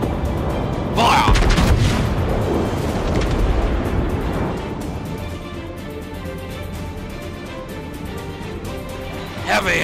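A naval broadside salvo in a warship video game, loud booming blasts near the start rolling into a sustained rumble of battle noise, with voices talking over it.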